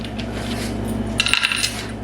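Keys and loose change are tossed into a handmade wooden catch-all tray. They land with a short, bright metallic jingle and clatter over a steady low background hum.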